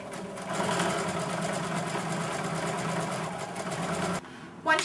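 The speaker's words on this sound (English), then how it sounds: "you're just going to feed it into your sewing machine" A sewing machine runs steadily, stitching fabric pieces for a placemat with a quarter-inch seam, a close rapid mechanical whir that stops abruptly near the end, with a voice present.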